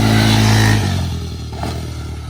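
Yamaha Raptor 90 youth ATV riding past: a loud, revving engine close at first, then dropping and fading with some clatter as the quad moves away.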